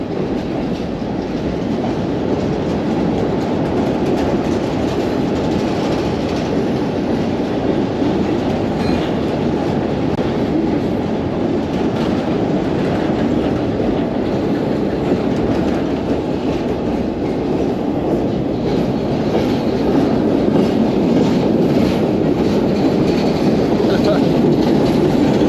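A freight train rolls past the Eugene, Oregon station in a long, loud, steady rumble of wheels and cars, with rhythmic rail clatter running throughout and no break.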